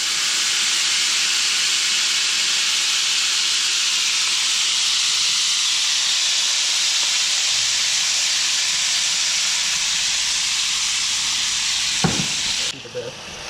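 Loud, steady sizzling and steaming hiss of vegetable stock poured over pork chops in a hot pan, running continuously before a brief clatter and a sudden drop near the end.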